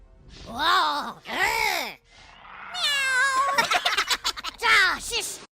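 A person imitates a cat's meow with several loud, drawn-out vocal meows and groaning cries in quick succession, with a brief hissing sound in between.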